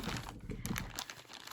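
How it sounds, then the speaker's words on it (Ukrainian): Crinkling of a plastic bag holding sewing patterns for patchwork, a steady run of close, scratchy rustles and crackles with small louder bursts, heard alone without speech. "Ось у мене є такий пакетик, а в пакетику шаблони для"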